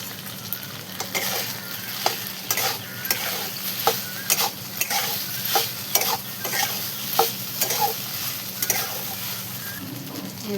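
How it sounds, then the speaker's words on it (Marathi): Cauliflower sabzi with crushed peanuts stir-fried in a pan, with a soft constant sizzle under repeated scraping strokes of a spatula, close up. "हे बघा शेंगदाण्याचा कूट टाकून मस्त अशी परतून घेतली सगळी भाजी"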